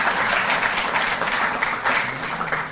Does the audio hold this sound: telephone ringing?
no